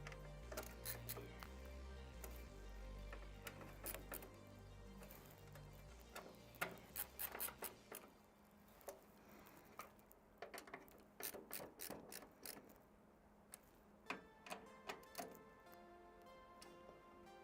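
Rapid ratcheting clicks of a tool tightening bolts during a white gaming PC build with an Intel i7 14700K and RTX 4080. The clicks come close and fairly quiet in irregular bursts, with faint metallic ticks between them.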